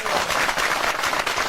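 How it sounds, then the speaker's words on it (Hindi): Audience clapping steadily at a community gathering, a dense continuous patter of hands that holds even and fairly loud throughout, with no voices over it. "जिन लोगों ने ये कार्यक्रम आयोजित किया उनके लिए तालियां बजाओ"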